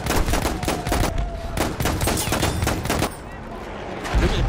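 Automatic gunfire in a first-person shooter match with an aimbot cheat running: dense, rapid bursts of loud cracking shots rattle almost nonstop for several seconds, with a brief lull near the end before more shots.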